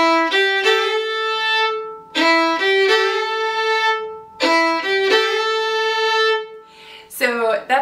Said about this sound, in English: So the third finger matches the pitch of the open A.